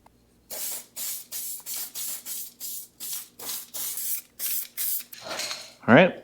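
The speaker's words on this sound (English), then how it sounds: "with some weld through primer. So we're gonna do that real quick." Weld-through primer sprayed from an aerosol can onto a 1941 Ford firewall: about a dozen short, even hissing bursts in a steady rhythm, close by, followed by a longer spray and a brief clatter at the end.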